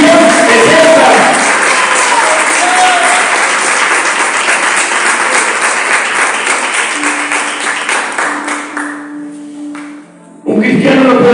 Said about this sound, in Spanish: Si quiere aplaudir, puede aplaudir